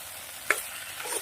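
Pointed gourd and potato pieces half-frying in a pan give a soft steady sizzle, broken by one short scraping stir, then a faint crackle of oil near the end, with no voices.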